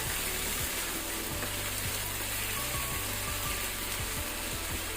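Squid stir-frying in a pan over high flame, a steady loud sizzle with regular scraping knocks of a spatula stirring the pieces.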